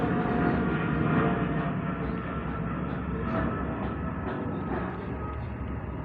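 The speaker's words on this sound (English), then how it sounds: "Plane going over" An airplane passes overhead, a steady broad roar lasting several seconds that fades only slightly, with no talk over it.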